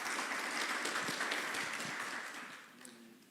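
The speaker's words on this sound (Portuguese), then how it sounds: "Pode aplaudir a Deus por isso, queridos?" A church congregation claps during a sermon, a fairly distant, roomy patter of applause that holds steady and then tapers off toward the end.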